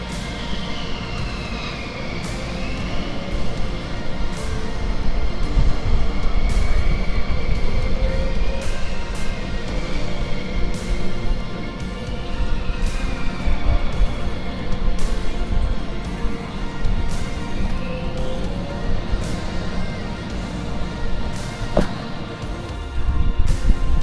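USAF Thunderbirds jets taxiing on the ground at an air show at McConnell AFB, Kansas, producing a continuous loud jet engine roar and whine with shifting pitch, sustained throughout at moderate distance.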